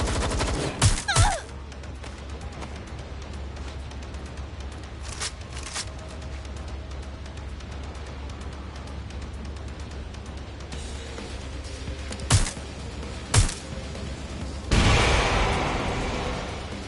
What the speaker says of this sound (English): Look out! Taking fire!